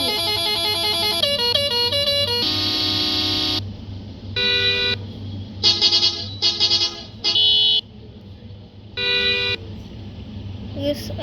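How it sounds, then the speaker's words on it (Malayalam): A car horn sounds a series of tonal honks: rapid short toots, then longer held blasts separated by pauses, loud and close over a low steady hum. "ഒരു ഹോൺ നല്ല സെറ്റ് ചെയ്തിട്ടുണ്ട്."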